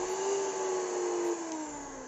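A hand mixer's electric motor runs again after overheating and cooling down, giving a steady close whirring hum whose pitch sags slightly as it keeps spinning.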